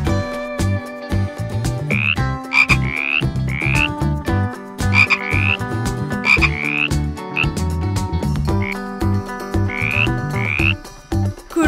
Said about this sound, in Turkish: Kurbağa canlı.